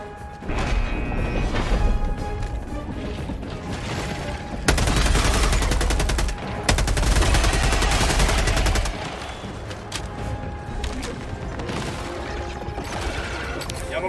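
Gunfire in the video game Helldivers 2 rattles in dense, loud bursts and crashes, with heavier volleys in the middle and sustained shooting throughout, while a voice speaks under the battle.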